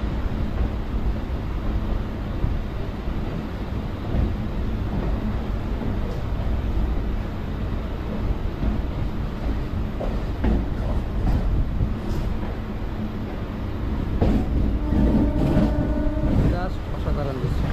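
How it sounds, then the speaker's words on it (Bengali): A train runs along a curving railway line, a steady loud rumble of wheels and carriages that holds throughout, with tonal squeals or a horn rising near the end. "এই ট্রেনটা কার্ভ হবে লাইন।"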